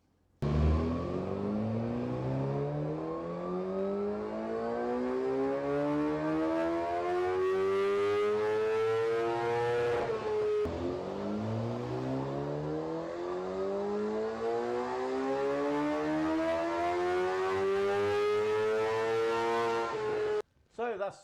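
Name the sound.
Suzuki GSX-R 750 K7 motorcycle run on a dyno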